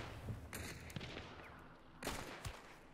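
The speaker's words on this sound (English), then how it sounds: "Oh, three shots, he's still down there." Gunfire in the video game Hunt: Showdown set in a bayou, with a few sharp, fairly close shots and broadband bursts spread across the moment, one near the start and another strong blast about two-thirds through.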